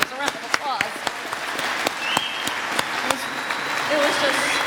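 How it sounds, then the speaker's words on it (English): Breakfast audience at a mayors' business gathering claps for a Stanley Cup final mention, a moderate ripple of applause with distinct sharp claps from nearby hands and some voices mixed in. "That deserves a round of applause"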